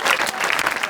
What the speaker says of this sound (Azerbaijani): Rosko'ya bir alqış istəyirəm sizdən dostlar